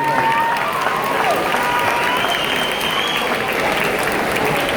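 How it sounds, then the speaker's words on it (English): A crowd claps steadily and fairly loudly for seniors at a high school senior recognition ceremony, a dense, unbroken wash of applause lasting the whole stretch, with a little crowd noise mixed in. "Please give them a round of applause."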